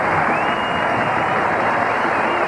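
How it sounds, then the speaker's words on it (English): A large football stadium crowd cheers and applauds in a continuous dense roar, loud and sustained throughout without pause. "Now let's hear the crowd cheer."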